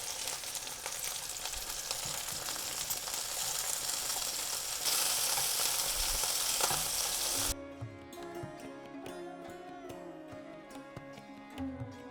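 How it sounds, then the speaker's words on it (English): Chicken kebabs sizzle in a pan over medium heat with a dense, steady hiss for several seconds, then the frying drops away into quieter kitchen sounds and faint clicks. "after 3-4 minutes cooking on medium heat, I'm going to turn this over, cook for another 3-4 minutes on each side"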